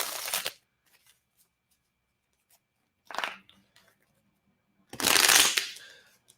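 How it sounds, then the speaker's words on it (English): A tarot card deck is shuffled in three separate bursts of riffling card noise, the last one longest and loudest, with quiet gaps and small handling clicks between them. "I'm gonna shuffle my deck for 30 seconds."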